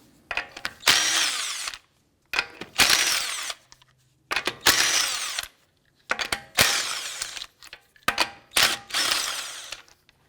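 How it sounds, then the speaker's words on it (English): Impact wrench removing lug nuts with a 19mm socket from a 2004-2008 Acura TL wheel, five loud whirring bursts of about a second each separated by short pauses, close by with no talk. "Using a 19mm socket, let's go ahead and remove our lug nuts."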